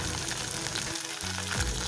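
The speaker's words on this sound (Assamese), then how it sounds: "এয়া মাছকেইডোখৰ মই ফ্ৰাই কৰি থৈ ল'ম।" Pieces of fish fry in hot oil with a steady, close sizzle, broken by a brief dip in the low crackle before the bubbling resumes.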